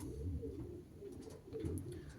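Racing pigeons coo softly in low, throaty rolling calls, several overlapping, with faint chirps above, quiet and close throughout.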